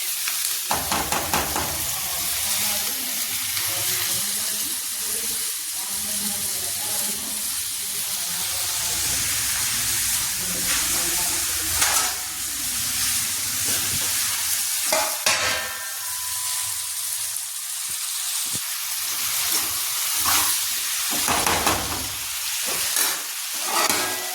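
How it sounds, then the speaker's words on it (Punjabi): A vegetable curry gets its tempering in a pan, sizzling steadily at close range while a spoon repeatedly stirs and scrapes through it for over twenty seconds, with no voices. "ਸਬਜ਼ੀ ਨੂੰ ਤੜਕਾ ਲਾਤਾ ਜੀ"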